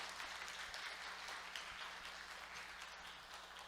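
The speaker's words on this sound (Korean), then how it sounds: "잘 섬겨주시라고 우리 크게 박수를 한번 격려해 주시면 감사하겠습니다." A church congregation at a Sunday service claps together, a steady, even wash of applause heard faintly and at a distance throughout.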